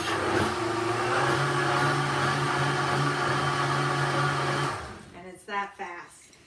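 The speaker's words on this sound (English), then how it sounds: "I am going to blend this up in my blender." Electric blender whirring loudly and steadily while blending an onion tart filling, running for nearly five seconds with a constant motor hum, then cutting off abruptly, followed by a couple of brief soft knocks.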